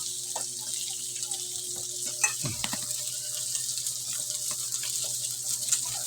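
Rough chopped onions cook in a pan with rendered fat, giving a steady soft sizzle and light stirring, with a few brief clinks and scrapes over it.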